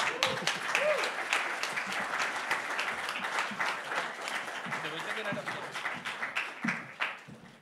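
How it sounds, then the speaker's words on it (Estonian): An audience at an award ceremony in Viimsi claps steadily and loudly for several seconds, a dense wash of applause that thins toward the end. "Te võite plaksutada ka."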